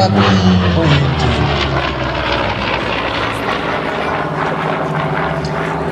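A piston-engined warplane, a Corsair or P-38 Lightning, roars close and loud at the La Ferté-Alais airshow, a steady droning engine and propeller sound that holds for several seconds.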